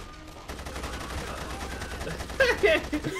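Rapid video game gunfire in The Saboteur crackles continuously for about three seconds, denser and louder near the end, mixed with busy background game noise.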